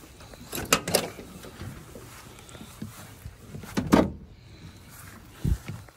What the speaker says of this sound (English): Open your door.